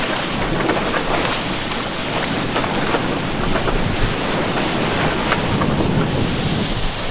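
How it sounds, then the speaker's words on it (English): Steady broadband rush of ocean waves and wind aboard the sailboat Shearwater under a third reef on a morning sail from Panama toward the Galapagos, continuous and loud with no voices. "I just wanted to show you some scenes of a beautiful morning at sea."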